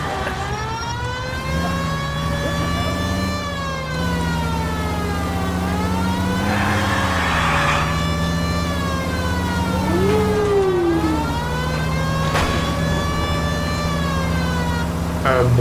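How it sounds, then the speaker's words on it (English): In L.A. Noire a police car's siren sweeps up and down in long continuous cycles over a droning engine, loud and close, with brief faint game sounds beneath. "We might get there quicker if you use the siren."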